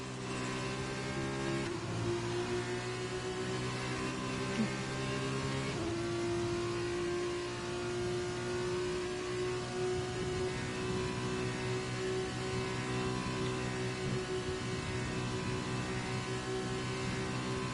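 Formula 2 race cars in an esports racing game lap the Belgium Grand Prix track, a steady loud engine whine of layered tones whose pitch shifts near the start and again a few seconds later, continuous throughout.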